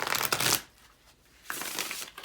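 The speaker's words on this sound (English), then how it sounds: "I do riffle shuffle." Tarot cards are riffle shuffled up close, two crisp fluttering bursts separated by a short quiet pause, with no talking.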